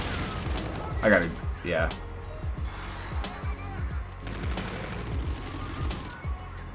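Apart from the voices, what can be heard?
KARMA-45 gunfire in a video game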